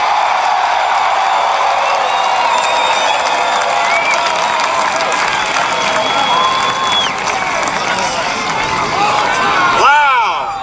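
A huge outdoor political rally crowd in Madison, Alabama cheers and applauds continuously, a loud, dense roar of clapping and shouting with whistles, easing slightly near the end before a sharp swell.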